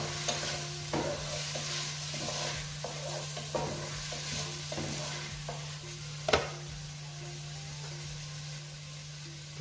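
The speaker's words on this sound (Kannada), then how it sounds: "ಸ್ವಲ್ಪ ಫ್ರೈ ಆದ ನಂತರ ಅದಕ್ಕೆ ಟೊಮೆಟೊವನ್ನು ಸೇರಿಸ್ಕೊತಿದ್ದೇನೆ ನಾನು" Tomato frying in a pan for a chicken dish, a soft steady sizzle broken by repeated spoon scrapes and stirring taps, with one sharper clank near the end and a low steady hum beneath.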